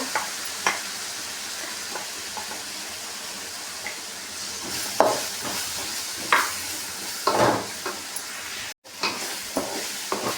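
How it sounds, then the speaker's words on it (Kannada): Grated coconut frying in oil on a medium flame, a steady close sizzle with intermittent scraping stirs and small clatters. "ಮೀಡಿಯಮ್ ಉರಿಲೇನೆ ಈ ಕಾಯಿಂದ ಹಸಿ ಸ್ಮೆಲ್ ಹೋಗೋವರೆಗೂ ಫ್ರೈ ಮಾಡ್ಕೊಳ್ಳೋಣ"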